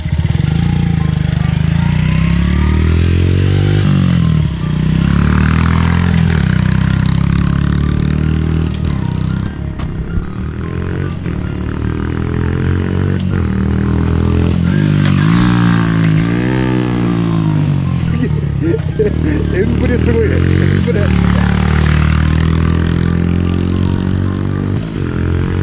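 A small Honda Monkey 50 motorcycle rides around nearby, its little engine buzzing and revving up and down repeatedly, pitch rising and falling as it accelerates and passes.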